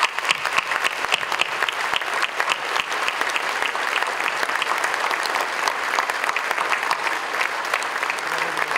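A conference audience applauds steadily at a closing speech on A H1N1 in Cancún in 2009, with many hands clapping in a dense, even wash that holds at full strength for the whole stretch.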